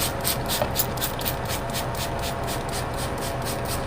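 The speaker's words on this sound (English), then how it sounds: "I'm just going to spray my wreath down." Rapid, evenly spaced hissing bursts from a spray bottle misting water onto a fresh Christmas wreath, close and steady throughout with no talking.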